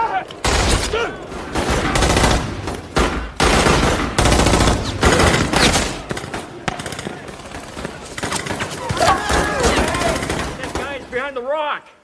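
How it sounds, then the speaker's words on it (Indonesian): Sustained gunfire exchange between soldiers, with dense bursts of machine-gun and rifle fire rattling loudly and almost continuously, briefly easing before resuming, and a voice calling out near the end. "Baku tembak pun tak terelakkan."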